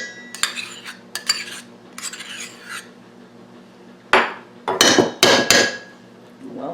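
A spoon scoops sour cream out of a container for pierogi dough, giving several clinks and scraping knocks against the container in uneven bursts, the loudest ones near the end.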